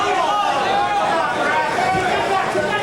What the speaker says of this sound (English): Crowd screaming for a low blow.